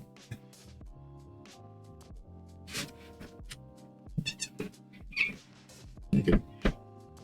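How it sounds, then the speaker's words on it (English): A house cat meows several times indoors, short, fairly close calls scattered among other sounds, while a person talks over a computer setup. "I hear a cat."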